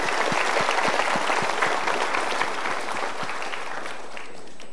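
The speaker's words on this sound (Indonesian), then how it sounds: "kita berikan tepuk tangan." Enthusiastic audience applause at an Indonesian motivational talk show, a dense, steady roar of many hands clapping together that fades slightly toward the end.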